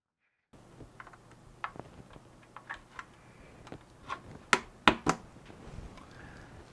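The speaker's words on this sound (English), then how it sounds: "we're going to install 2 memory modules. Here they are. I'm going to click them in" Two memory modules being pressed into PC motherboard slots, giving a scatter of small plastic clicks and handling taps that build to a few sharper, louder snaps near the end, close and without talk.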